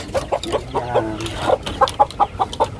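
Domestic hens cluck in a rapid, irregular series of short, close calls, with a faint voice in the background.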